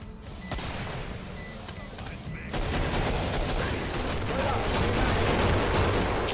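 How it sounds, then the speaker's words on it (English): Gunfire and grenade blasts from the shooter game Killing Floor pour out in a dense, continuous barrage that grows heavier and louder partway through. "He's firing a rocket. Oh no, grenades."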